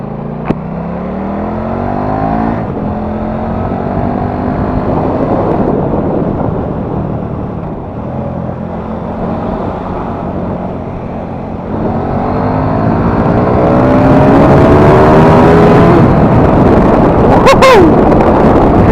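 A KTM RC8 V2 sport motorcycle with stock exhaust revs loudly and continuously, rising in pitch and roaring louder toward the end, with wind noise over the microphone.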